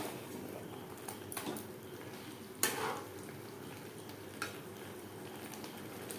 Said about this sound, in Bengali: মাংসের সাথে টমেটোর পেস্ট বেশ ভালো করে মিক্স করে দেবো